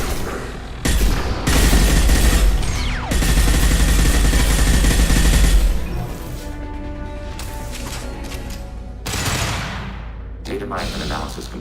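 A hacked turret in Mass Effect 2 unleashes heavy sustained automatic fire, loud and close for several seconds, then tapers into scattered shots, impacts and crashing game effects, with voices speaking between bursts.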